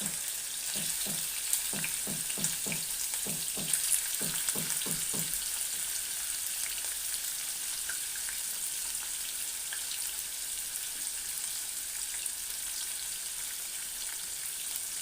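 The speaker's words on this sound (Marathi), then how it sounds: "तेल आपलं ना गरम झालेलं आहे मग आता आपण त्याच्यामध्ये ना हे पनीरच्या फोड्या करून घेतल्या आहेत ना हे बघा हे त्याच्यामध्ये घालायचं आहे" Paneer pieces dropped into hot oil in a kadai give a steady bright sizzle, with a cluster of soft clattering knocks in the first few seconds, then an even frying hiss that continues alone.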